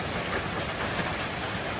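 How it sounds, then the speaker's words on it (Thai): Steady rain falls outdoors at a temple in Surin, Thailand, a dense, even hiss that continues without a break and without anyone speaking. "วันนี้ก็ มากับสายฝนนะคะ มากับสายฝน"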